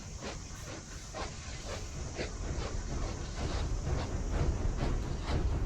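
A steam train in the Poppy Playtime video game gives a steady hiss over a faint, rhythmic chugging pulse that grows slightly louder over the stretch, with no voices.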